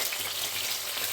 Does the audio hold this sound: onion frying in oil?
yes